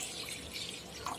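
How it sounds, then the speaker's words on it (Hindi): A glass of water poured into a pan on the stove for cooking spinach makes a faint, steady splashing trickle for a moment, quiet and close. "मैं डालूंगी थोड़ा सा पानी,"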